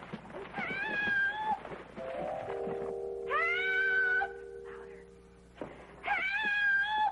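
A person screams for help in a 1976 Western comedy film about a wagon train, with long, loud, high-pitched wailing cries repeated in several bursts and brief pauses between them.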